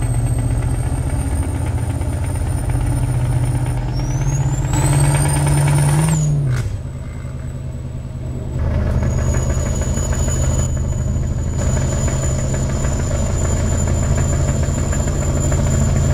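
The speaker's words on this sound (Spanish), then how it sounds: "Venga, vamos a meterle sonido al motor." Simulated truck engine in Euro Truck Simulator on a Spanish route toward La Coruña, a steady loud low drone with a brief pitch rise and drop near the middle, running alone throughout.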